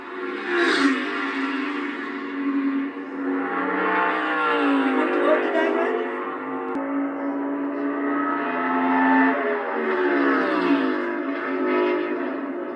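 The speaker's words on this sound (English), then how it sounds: "You heard the downshift." A NASCAR next-gen Cup car howls through a qualifying lap at Phoenix, its engine tone dipping as it downshifts and then rising again, steady and moderately distant.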